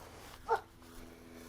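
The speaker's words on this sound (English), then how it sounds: "Got ourselves a friendly pup next door." A single short, faint bark from a neighbor's dog in a DeBary, Florida residential HOA, heard alone over quiet outdoor background.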